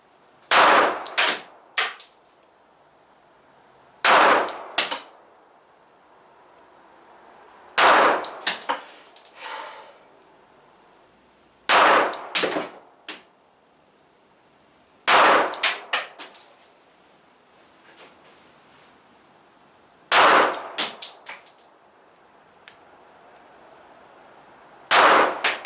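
A Ruger LC9s pistol fires at steel targets outdoors: six sharp reports spaced a few seconds apart, each followed by ringing metallic clangs from the struck plates.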